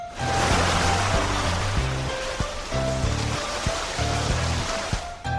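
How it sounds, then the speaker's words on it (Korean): Ocean waves heard inside a conch shell picked up on a sandy beach: a steady, soft whooshing wash that fills the clip, with gentle music playing underneath. "시원한 파도소리가 들렸어요"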